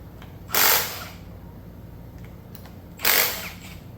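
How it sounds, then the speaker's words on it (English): Two short, loud bursts of a power impact tool or drill spinning bolts off engine caps with a socket, each lasting about half a second, separated by quiet. "Now, that's all the bolts off of the caps."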